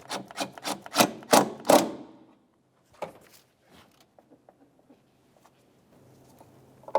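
A 10mm-headed bolt being snugged down on a 2004-2015 Nissan Titan negative battery cable: a burst of quick, close ratcheting clicks, then sparse light taps and tool handling in near silence.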